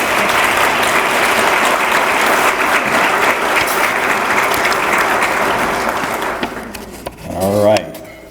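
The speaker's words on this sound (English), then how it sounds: "Let's give them a round of applause." An audience at a diversity awards ceremony in San Antonio gives a sustained round of applause, loud and dense for most of the stretch before tapering off as a voice briefly cuts in near the end.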